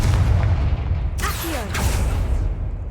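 Confringo blast spell cast in Hogwarts Legacy on PS5: a whooshing fiery burst quickly followed by a second blast, over a steady, loud low rumble of game ambience.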